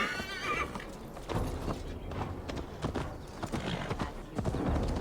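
Horse hooves clop at a walking pace alongside a loud whinny in the video game Assassin's Creed Valhalla, with faint background ambience and no speech.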